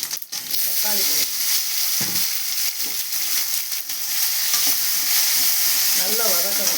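Tomatoes frying and being stirred in a pan for a South Indian egg masala gravy, a steady close sizzle with scraping spoon strokes throughout, no talking.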